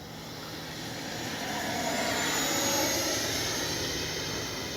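A small RC L-39 jet model with a 64mm electric ducted fan flies overhead, its steady whooshing whine swelling toward the middle and easing slightly as it passes, alone without talk.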